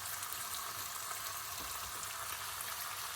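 Tomatoes sizzling in a pan with tilapia, a steady hissing fry that holds at an even level throughout with no breaks, close by and nobody talking.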